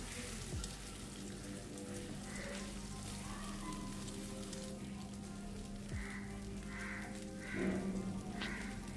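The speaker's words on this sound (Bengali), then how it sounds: "ডিমের ভুজিয়া আমি খুব একটা লাল করে ফ্রাই করব না, এটাকে আমি হালকা করে ফ্রাই করব।" Egg bhujia frying lightly in a pan, a soft continuous sizzle with faint crackles and a few small pops, quiet and close, with no talking.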